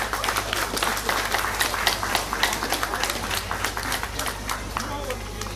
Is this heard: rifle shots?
no